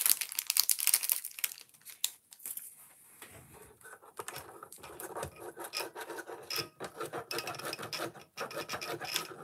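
A small cube is rubbed against the wheel of a wooden Ugears hurdy-gurdy kit, making a steady close rasping scrape in uneven strokes with brief pauses and no talking.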